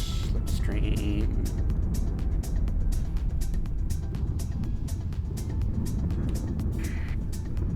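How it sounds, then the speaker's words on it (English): A spaceship in the game StarSector enters slipstream with a loud, sustained rushing roar, steady and dense throughout, with brief tonal blips and a voice speaking over it near the start. "Entering slipstream."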